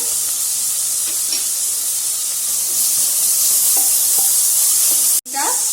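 Chopped onion and ginger garlic paste fry in hot oil, giving a loud, steady hiss and sizzle close up, with light stirring scrapes. A sharp burst of sizzle comes near the end.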